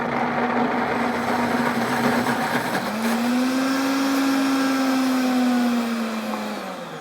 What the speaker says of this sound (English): we'll get it started on the grind setting, and you can see that it'll start a little bit slow and then it'll speed out.